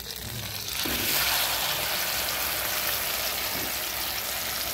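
Spice paste dropped into a hot pan for niramish paneer, a sudden loud wet sizzle that settles into steady hissing frying.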